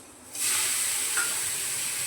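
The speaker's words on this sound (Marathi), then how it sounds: "तवा चांगला गरम झालाय तव्यावर थोडंसं पाणी" A splash of water hits a hot griddle and flares into a sudden, loud hissing sizzle that stays steady and close for a couple of seconds, with a small crackle partway through.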